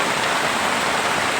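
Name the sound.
rain falling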